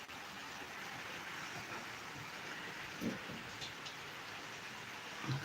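Steady rain falls outdoors, a continuous broadband hiss of drops on surfaces with a couple of brief louder patters, no voices.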